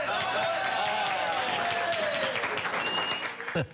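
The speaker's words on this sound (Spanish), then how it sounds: "¡Aplausos!" An audience applauds at a live comedy show in Miami: dense, steady clapping from a crowd fills the clip at close range, with some whistles or cheers riding on top before it cuts off near the end.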